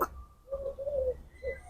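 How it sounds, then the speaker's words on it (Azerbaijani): Outdoor bird calls, likely a pigeon or dove, give a few soft cooing phrases at moderate distance against quiet background noise, with no talking. "Quşun səsini eşidirsiniz?"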